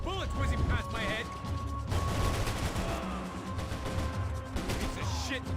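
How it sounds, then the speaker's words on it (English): Bullets whizz and gunfire cracks during a firefight in Max Payne 3, with repeated sharp shots and impacts, and a voice shouting over the din. "I can't concentrate with bullets whizzing past my head!"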